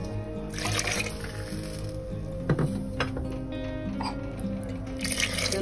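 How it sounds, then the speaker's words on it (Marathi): Water is poured into a brinjal curry, stuffed baingan masala, making soft trickling, dripping and splashing sounds close by, fairly quiet, with no talking. "मी आणखी थोडंसं पाणी टाकून घेते."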